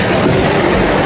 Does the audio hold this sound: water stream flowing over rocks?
no